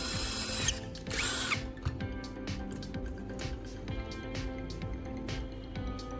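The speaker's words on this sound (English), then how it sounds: "I drill 2 holes in each CD to prepare for assembly." A power drill bores holes in a CD, a whirring motor with intermittent buzzing bursts and ratcheting clicks, close up and fairly quiet, with no speech.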